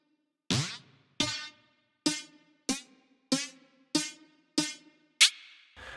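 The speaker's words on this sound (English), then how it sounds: "So you will first hear the delay and you will have like a high feedback." A drum hit is repeated through a delay with high feedback, giving eight sharp, evenly spaced echoes that ring briefly, the last one brighter and louder, with silence between them.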